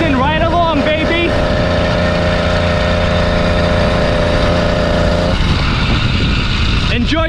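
A 20-plus-year-old HPI Nitro RS4 RC car with a nitro engine drives close by, its loud buzzing engine rising and falling in pitch and then holding a sustained high whine, continuous throughout.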